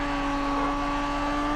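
A race car engine in GRID Autosport revs steadily at high pitch while downshifting, a continuous loud whining drone without any talk.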